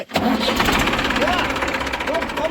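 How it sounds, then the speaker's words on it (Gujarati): A tractor engine cranks and catches, then runs at a rough, steady idle close by; a voice can be heard over the motor. "છોકરા તું ટ્રેક્ટર ચાલુ કર"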